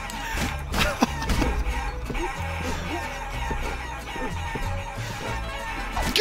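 Chickens cluck and squawk in the Guacamelee video game, repeated short calls over a busy, steady bed of game music and effects.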